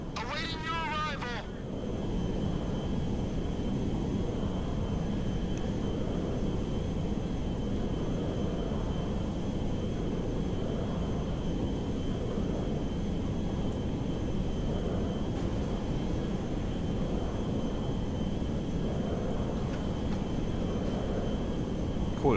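In GTA 5, a jet aircraft engine roars as a steady, broad, unbroken drone that holds at an even level throughout, with a short burst of talk near the start.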